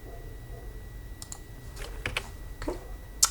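Computer keyboard arrow keys are tapped while working in MS Word: about five sharp, separate clicks spaced irregularly over a quiet room hum, with the last press a little louder.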